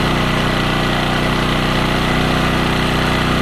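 A new, smaller Champion generator engine runs with a steady, even hum and buzz. It holds a constant moderate loudness close by throughout, with no voices.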